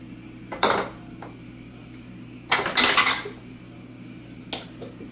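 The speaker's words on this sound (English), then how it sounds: "I'm going to put my pineapple in here" Pieces of pineapple dropped into a food processor bowl, a few separate plastic and metal clunks and clatters with quiet pauses in between, close by.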